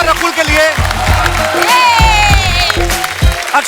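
Studio audience applause and cheering greet two guests on a televised comedy talk show, a steady wash of clapping mixed with music and voices across the whole stretch.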